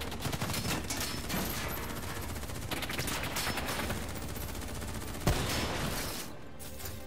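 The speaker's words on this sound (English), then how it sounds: "What the hell? Who's shooting?" Call of Duty Black Ops III video game gunfire: a dense, continuous fusillade of rapid shots over a dense roar, with one sharp louder crack near the end before the firing fades down.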